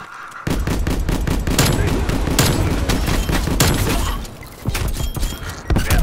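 Rapid automatic gunfire in Call of Duty: Black Ops Cold War, dense overlapping bursts of shots that run loud for several seconds, ease briefly, then resume.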